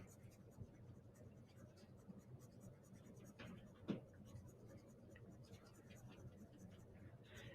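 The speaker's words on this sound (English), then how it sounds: "I'm going to go back in, I'm going to cross hatch." Pencil cross-hatching on paper for shading, a faint, quiet rhythm of soft scratchy strokes with one slightly louder scrape near the middle, alone with no talk.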